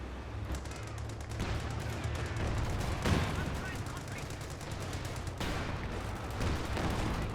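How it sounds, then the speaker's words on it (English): Anti-tank guns firing in Company of Heroes 2, a 3v3 match on Red Ball Express, with a Pershing tank as the target. Heavy gunfire and booms repeat throughout a dense battle mix, with a sharper blast near the middle, and a voice talks over it. "Double AT guns opening fire at the Pershing."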